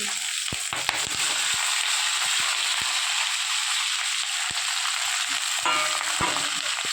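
Mutton pieces frying in a pan with roasted spices, a steady dense sizzle with scattered sharp clicks and stirring knocks throughout, close and continuous with no talk.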